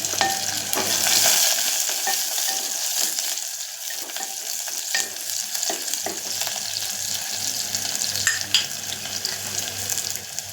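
Onions and garlic frying in a pan, a steady close sizzle with intermittent clicks and scrapes of stirring throughout.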